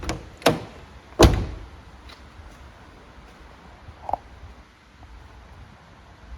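An E36 BMW M3 door, freshly refitted with its seal during restoration, shuts with a couple of sharp close thuds near the start, followed by quieter clicks and faint workshop ambience.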